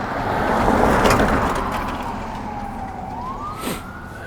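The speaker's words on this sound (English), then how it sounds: "those sirens have been going off" A police car siren wails through a town, loud and close, its pitch sweeping down then back up over a rushing background of traffic.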